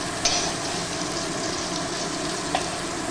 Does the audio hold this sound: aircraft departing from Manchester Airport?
no